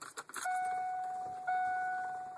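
A key clicks and jingles in the ignition of a 2000 Hummer H1, then a steady electronic chime or tone rings out close by, lasting over two seconds with a brief restart midway.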